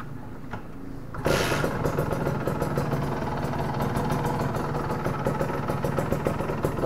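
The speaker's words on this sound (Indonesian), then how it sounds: "nyalain motornya Mas Puji." A Kawasaki Ninja R motorcycle engine fires up after a second of quiet and settles into a steady, rattly idle with a fast, even pulsing beat close by.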